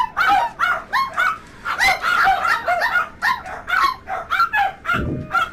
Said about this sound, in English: That's the dogs going off on one.